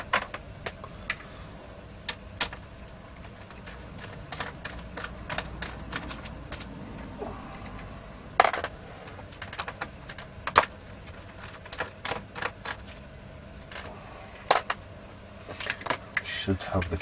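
Small clicks, snaps and taps from pulling the keyboard out of a Toshiba T1000 laptop, scattered irregularly across a steady background hiss, with a few sharper plastic cracks.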